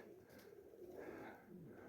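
Soft, continuous cooing from racing pigeons at a loft, low and muffled, with overlapping coos and a faint hiss of background noise throughout.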